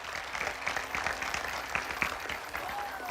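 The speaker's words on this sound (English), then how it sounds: "Please give everyone a round of applause to our students and to our patrons in the audience." Applause from the audience at a 2022 high school graduation ceremony: dense, steady clapping from a crowd, moderately loud and continuous for about three seconds with no talking over it.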